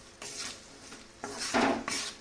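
Close clinks and scrapes of a utensil against a pan as rock salt is stirred into poha, a few uneven strokes with one louder scrape near the end.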